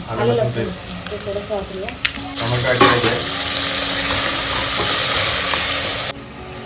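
Loud, steady sizzling of onion and tomato frying in a pan, with stirring scrapes early on, then a sustained hiss that cuts off near the end.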